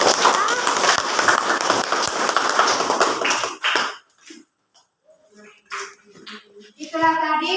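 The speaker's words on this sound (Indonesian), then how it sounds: "Pas, tepuk tangan." A classroom of students claps together in a dense burst of applause lasting several seconds, followed by quieter scattered sounds and faint talk.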